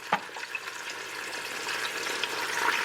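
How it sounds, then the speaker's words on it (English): Oxtails sear in a hot pan, giving a steady crackling sizzle throughout with a few sharp pops near the start, close and moderately loud. "I'm gonna let these sear real quick"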